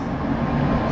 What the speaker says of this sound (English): Oh, look at this tram